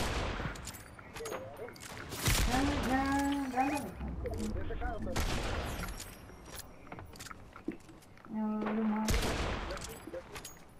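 Fortnite Reload battle royale gunfire, with several sharp bursts of shots, some near and some farther off, mixed with game effects under players talking.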